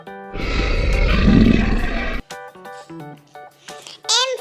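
A lion gives one loud, rough roar lasting about two seconds, then a voice and brief musical tones follow.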